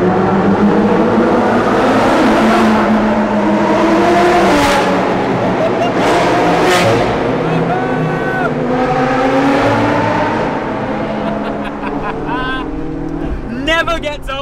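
McLaren 675LT supercar exhaust revving hard in a tunnel, a loud continuous roar with rising and falling revs, sharp blips and crackles toward the end, echoing close by.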